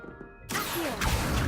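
Incendio fire spell cast in Hogwarts Legacy: after a quiet stretch, a sudden loud blast erupts and holds as a roaring burst, swelling again about half a second later.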